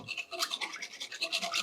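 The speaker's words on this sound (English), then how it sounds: "I'm going to whisk this over low heat." Wire whisk beating a cream mixture in a pan over low heat in a cottage kitchen, a steady fast scraping and rattling rhythm throughout, close and clear with no talk.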